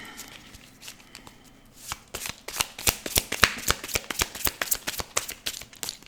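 A tarot deck is gathered and shuffled by hand, soft shuffling at first, then a rapid series of crisp, close card snaps and riffles growing louder.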